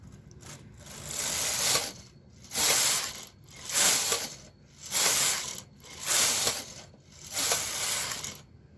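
A Brother KH940 knitting machine carriage knits plaited yarn in six even passes, each a bright rasping, clattering sweep lasting about a second with short pauses between, close and alone.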